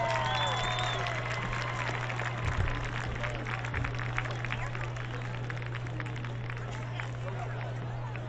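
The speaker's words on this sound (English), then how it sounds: "applause." Crowd applause and cheering at a high school senior night football game, a steady wash of clapping from a large stadium crowd lasting throughout, with a low constant hum underneath.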